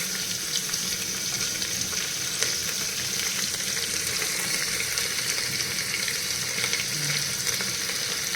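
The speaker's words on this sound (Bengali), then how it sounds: "এরপরে আমি আমার কেটে রাখা এই পেঁয়াজগুলো আমি এর মধ্যে দিয়ে দিলাম।" Small chopped onions sizzle and fry in a pan for home-style Punjabi rajma, a steady close crackle with faint stirring and no voices.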